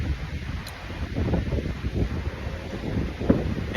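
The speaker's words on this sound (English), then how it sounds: "the wind is blowing" Outdoor wind gusting and buffeting the microphone, a continuous low rumble with a soft rushing texture, fairly close and steady.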